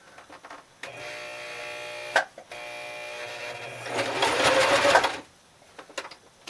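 A sewing machine stitches a seam on a button-up shirt being turned into a skirt, with a brief whirring run, a pause, then a longer steady hum that ends in a louder, faster burst.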